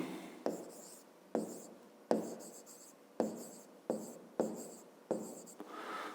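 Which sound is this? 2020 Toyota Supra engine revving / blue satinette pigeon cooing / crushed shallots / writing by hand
writing by hand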